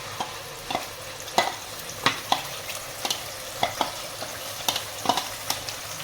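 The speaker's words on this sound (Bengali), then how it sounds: "এটাকে আবার এমনি করে ঢেকে ঢেকে ফ্রাই করবো" Chicken chaap marinade gravy fries in oil with a steady crackling sizzle, while regular sharp scrapes of a spatula repeat every half second or so, close and moderately loud, without any voices.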